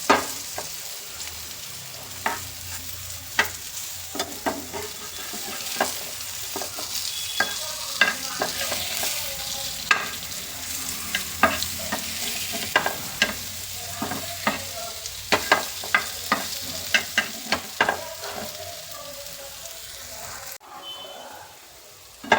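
Carrot fry being turned in a pan over a medium flame: a steady sizzle runs throughout, punctuated by repeated sharp scraping and clinking strokes of the spoon against the pan, which grow more frequent toward the end.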